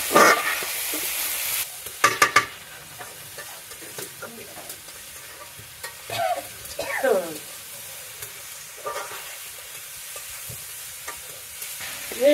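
Garlic paste goes into a sizzling pan of village-style country chicken curry and is stirred. A low sizzle sits under intermittent spoon scrapes and clunks, with a few louder knocks spread across the stretch and faint voices in the background.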